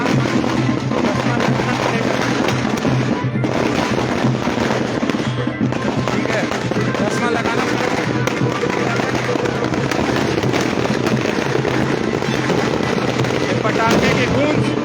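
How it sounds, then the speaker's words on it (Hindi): Firecrackers burst nonstop at a street celebration, a loud, dense crackle and bang that runs the whole time, with people talking over the din. "इनका पटाखा देख रहे हैं,"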